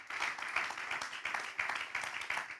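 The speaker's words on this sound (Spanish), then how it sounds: "Dale un aplauso al Señor." A church congregation claps in a steady rhythmic beat, many hands together at moderate loudness, sustained throughout without pause.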